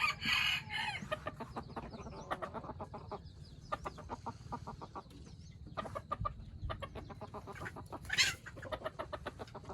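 Chickens cluck in quick, dense bursts with a rooster crowing among them, close and fairly loud on a farm, with no talk.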